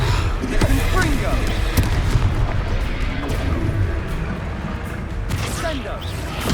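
Confringo fire spells blast in Hogwarts Legacy, heavy booming impacts landing over rumbling combat noise, with a voice speaking over the fight.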